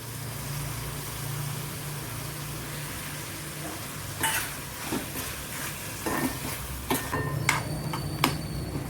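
Curry leaves dropped into a hot pan for Kerala sambar crackle and sizzle faintly over a low steady hum, with sharper spitting pops clustering in the second half.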